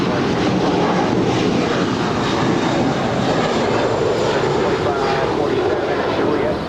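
A JetBlue Airbus A321 airliner at LAX produces a steady, broad roar of jet engine noise, loud and sustained throughout.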